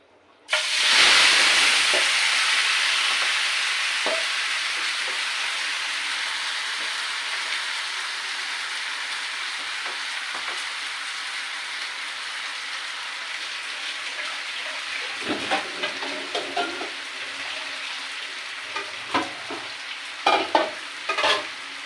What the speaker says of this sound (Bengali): এই দেখুন কড়াইতে তেল দিয়েছিলাম তেলটা গরম করে নিয়েছি